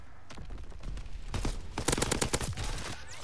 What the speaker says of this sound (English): Shooting the fuck out of him.